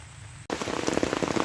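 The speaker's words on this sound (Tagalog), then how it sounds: "Yan na ang ulan natin." Steady rain pours down in a rural countryside setting, a dense broadband hiss of drops striking surfaces that begins abruptly and stays loud and continuous, with no talk.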